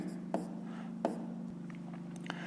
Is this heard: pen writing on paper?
yes